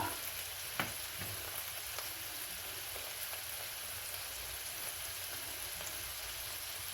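A generous knob of butter fries in a skillet with a steady, even sizzle and a couple of faint taps at the start, quiet and continuous with no voices.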